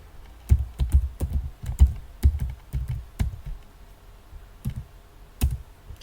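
Fingers type code on a computer keyboard in irregular bursts of sharp clicks and taps, several quick strokes in a row, then a pause, then a few more, close and clear with no talking.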